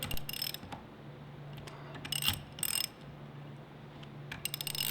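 A ratchet wrench with a hex bit clicks in short, quiet bursts as it tightens flange screws, the pawl rattling in uneven clusters with pauses between strokes.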